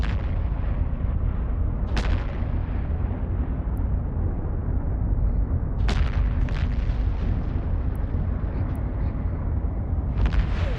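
Rapid heavy missile launchers in EVE Online thunder continuously with deep, rumbling booms, while sharper launch cracks punctuate the low roar every few seconds.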